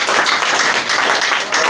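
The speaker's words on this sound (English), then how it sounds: "Clap for that, please." An audience at a student defense and birthday celebration at EPEL Center claps together in a dense, continuous burst of applause, loud and close, with no clear talking over it.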